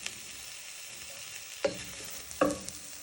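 Paprika and chilli powder stirred into sizzling rice in a pan, with a steady soft fry and two sharp scraping stirs of a spoon against the pan.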